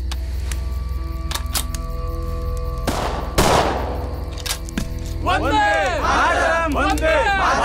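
Guns fire on a crowd in a Marathi film: a few heavy shots with a thud ring out over a steady background, then wailing, screaming voices rise.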